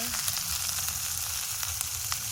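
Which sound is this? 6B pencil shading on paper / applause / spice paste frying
spice paste frying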